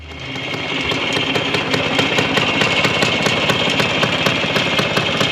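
A restored WSK motorcycle engine runs steadily and close. Its fast, even beat rises slightly at the start, then holds a constant rattling drone.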